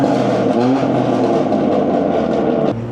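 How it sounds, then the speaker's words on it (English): A BMW 340i with the B58 engine revs hard, a loud, steady engine roar that rises in pitch and holds before easing off at the end, heard close up with no talking. "guarantee he finna rev it"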